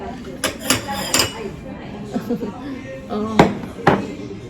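Plates and dishes clink and clatter in a home kitchen in Japan, several bright knocks and chinks with voices talking softly in the background.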